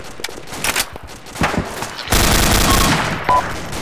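Video game gunfire in a warlord-hunting combat mission: sustained bursts of automatic fire and heavy thuds, dense and loud, swelling into a continuous barrage in the second half.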